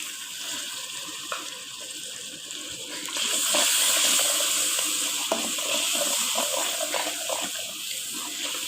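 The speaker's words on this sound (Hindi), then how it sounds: "थोड़ा सा डालेंगे पानी ताकि हमारे मसाले जले नहीं" Water poured into a pan of spices (salt, red chili, turmeric, ground coriander) frying in ghee for an aloo matar curry, a hissing sizzle swelling suddenly and continuing steadily close up.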